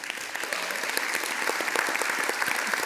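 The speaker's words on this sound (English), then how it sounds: "Finally, I get a clap." Audience applause at a Bitcoin policy event in Washington, D.C. with members of Congress; scattered, fairly faint clapping from the room that swells slightly and carries on steadily.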